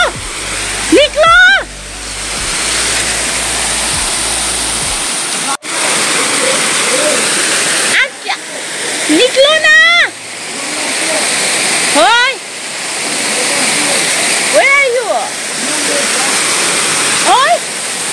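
Underground water gushes out of a mountainside in a loud, continuous rushing roar that stays close and constant throughout, while a person talks excitedly over it in bursts.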